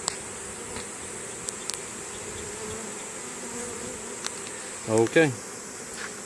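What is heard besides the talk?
honeybee swarm buzzing while entering a hive box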